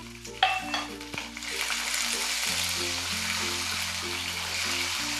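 Fresh green peas tipped into a hot pan for bhagar upma set off a close, steady sizzling hiss that builds and holds, with soft stirring and a low musical tone running underneath.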